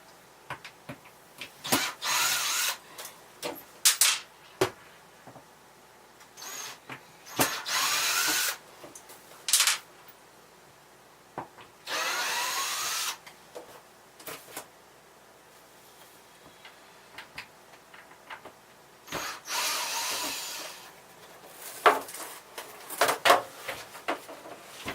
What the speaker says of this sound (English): all you have to do is remove the screws